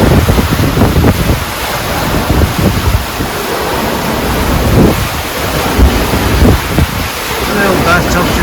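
Storm waves slap against a catamaran's hulls and bridge deck at sea, loud irregular thuds and splashes over constant roaring wind and surf.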